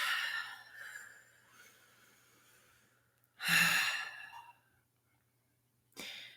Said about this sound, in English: Take a couple deep grounding breaths.